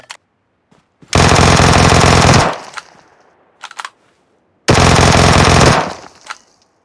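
Vector submachine gun firing in a video game: two long, loud, sustained automatic bursts, each over a second, with brief scattered shots and clatter between them.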